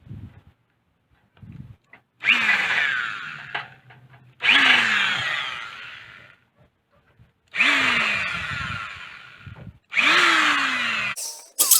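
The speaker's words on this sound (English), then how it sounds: "make sure the drill is going the right way." A power drill bores into an old wooden workbench being repaired, in four long loud whirring bursts, each starting with a rising motor whine and separated by short pauses with faint handling noises.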